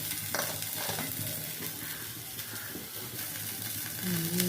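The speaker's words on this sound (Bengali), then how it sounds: "গোটা জিরে ফোড়ন দিলাম।" Whole cumin seeds and spices frying in oil in a pan, a dense close sizzle with crackles and occasional utensil scrapes, and a short tonal clink right at the end.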